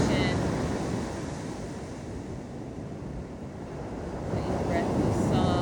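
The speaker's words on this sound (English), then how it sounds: "Listen to your ocean." Ocean surf at La Playa Negra beach in Costa Rica rolls in as a steady broadband wash, swelling slightly near the end, with wind buffeting the microphone.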